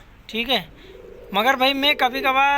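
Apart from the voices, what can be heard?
pigeon cooing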